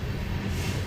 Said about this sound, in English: Another BNSF train is spotted in the distance, waiting for its turn to enter the mine spur at NACO.